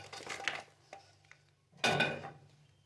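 A phool makhana mixture scraped and tipped into a ghee-greased steel tray, with soft metallic clatter and scraping, then a louder rustling tumble near the end, heard close and alone.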